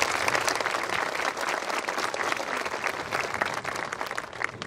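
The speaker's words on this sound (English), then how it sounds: "Can we give them one more round of applause?" Audience at a class of 2019 graduation ceremony applauding the graduates, a dense, sustained wash of clapping from many hands that continues throughout without a break.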